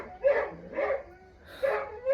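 Three whiny, high yelping barks with whimpering come from a house dog reacting to a neighbor's cat, spaced about half a second apart, then a pause before the last, close and moderately loud.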